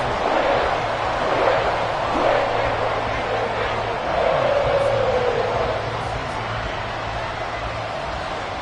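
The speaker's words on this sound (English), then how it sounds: "This crowd alive again." Stadium crowd in the Madden football video game roars steadily after a game-tying fourth-quarter extra point, a dense, continuous wash of cheering that swells slightly midway and holds loud throughout.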